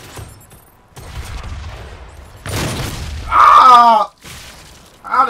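A grenade blast and gunfire in the Doom open beta multiplayer match, a heavy boom and rumbling shots mixed with in-game effects and a player's voice calling out.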